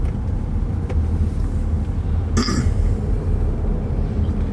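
A car passing on a rural road at night, a steady broadband road rumble and tyre hiss that holds throughout, with one brief sharp knock partway through.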